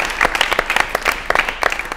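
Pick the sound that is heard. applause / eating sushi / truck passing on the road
applause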